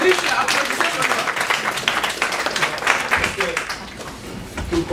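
An audience at a French conference on artificial intelligence claps, with scattered, uneven applause rising and dipping while voices are heard over it.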